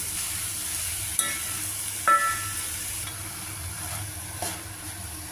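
A spoon stirs and mashes a thinning milk and sugar mixture made from curdled milk for palkova in a pan, giving faint scraping, soft sizzling and a few sharp clicks against the metal.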